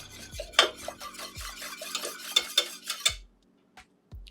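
A utensil stirs a melting dessert mixture in a pot over low heat. A few firm scrapes and knocks against the pot come between soft swishes, followed by a quiet pause with a couple of light taps.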